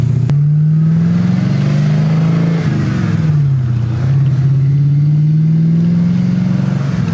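Ford Crown Victoria with a 5-speed manual transmission revving, a loud, close, deep engine drone that rises and falls in pitch across several swells with no pauses.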